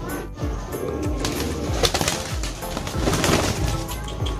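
Newly paired racing pigeons coo in repeated low, throaty rolls, close by and steady, with faint rustling and background bird sounds.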